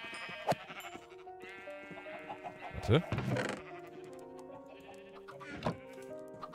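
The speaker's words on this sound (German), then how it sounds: "Schafe haben wir halt auch immer noch sehr viele" Sheep bleat in the Minecraft video game, several short, nasal bleats scattered across a few seconds, with a German-speaking player talking over them.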